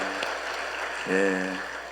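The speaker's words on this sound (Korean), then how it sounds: "따뜻한 우리 격려의 박수 한번 해주시기 바랍니다" A church congregation at a Sunday worship service claps together in a steady, dense patter that sounds rain-like and runs the whole time, while a voice speaks over it.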